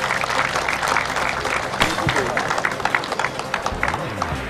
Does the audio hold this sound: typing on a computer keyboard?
no